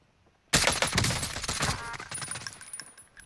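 A sudden loud volley of DMR rifle shots in Call of Duty Warzone, with several sharp rapid cracks that ring out and fade into scattered echoing gunfire.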